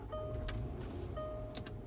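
A 2016 Land Rover LR4 interior as the push button start is pressed: soft electric motor whirs and clicks as the controls rise, over a low steady cabin hum, with two brief tonal chimes.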